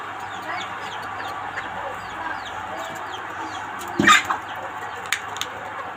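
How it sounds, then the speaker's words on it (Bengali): Native village chickens cluck softly while pecking at beetles, with scattered short clucks and chirps over a faint farmyard background, plus a brief louder squawk or thump near the middle. "দেখছেন কিভাবে খায় বিটল পোকা দেশি মুরগে"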